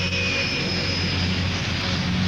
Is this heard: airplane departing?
yes